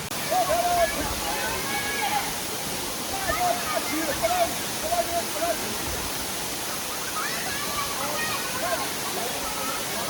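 A waterfall in the Taihang Mountain Grand Canyon in China roars in a steady, broad rush close by, while people talk and call out faintly over it.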